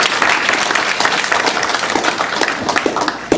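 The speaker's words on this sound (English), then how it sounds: "let's give them all a round of applause" Applause from an audience honoring science fair winners at a school board meeting, a dense, steady wash of many hands clapping together for several seconds with no talk over it.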